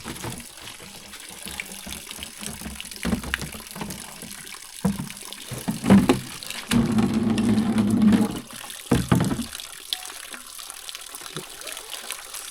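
Water scooped and poured from a clear stream in a rural valley village, splashing and gushing in bursts with a louder pour midway, then settling to a soft trickle.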